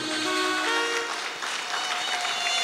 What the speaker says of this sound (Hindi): अब जोरदार तालियां बजाइए।